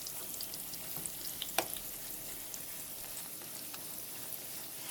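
Fry bread dough sizzling in hot oil, one piece at a time, a steady close crackling hiss with scattered pops and one brief louder snap, no voices.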